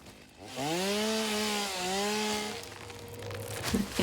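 A chainsaw cuts in a factory-building video game, its engine rising into a strong, steady whining buzz for about two seconds before easing down and trailing off.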